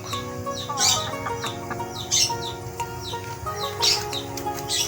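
Gamefowl chickens cluck and call nearby, with several sharp bursts rising over a steady background of other birds chirping.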